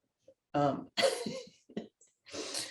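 A few short, rough coughs and throat-clearing bursts, close by, separated by brief pauses.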